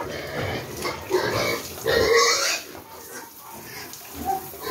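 A pregnant sow grunts and snorts repeatedly up close, with rough, throaty bursts rising and falling.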